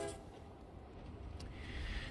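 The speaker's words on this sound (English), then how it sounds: "Let's get the trains running" Trains in the railway video game Railgrade, a low continuous rumble of rolling rail traffic with a faint horn-like tone, steady and building slightly in loudness.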